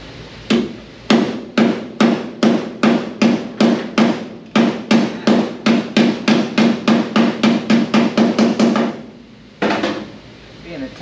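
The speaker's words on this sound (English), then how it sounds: "Still gonna have to hammer this edge in just a little bit," A hammer striking the edge of a car's rear quarter panel during bodywork repair, a long run of sharp, evenly spaced metallic blows, close and loud, with a brief pause before a few final hits.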